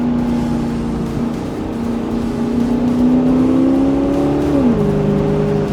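A 2010 Maserati GranTurismo Convertible with a Ferrari V8 revs at about 4,000 RPM, a steady loud droning engine tone that climbs slightly, then drops as the revs ease off.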